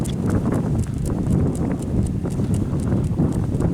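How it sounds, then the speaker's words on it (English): A horse walks on a central Virginia farm, its hooves clip-clopping in a steady, close rhythm over a constant low rumble of outdoor noise. "Got a new horse."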